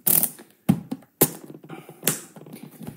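A ratcheting BOA dial wheel being turned forward to tighten a ski boot gives sharp, separate clicks and short ratchet bursts with brief pauses between turns, close up and alone.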